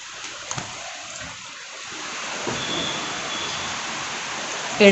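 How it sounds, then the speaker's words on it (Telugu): Heavy rain falling, a soft, steady wash of rainfall heard at moderate distance, slightly swelling midway, with a brief louder burst at the end. "ఫుల్ వర్షం పడుతుంది"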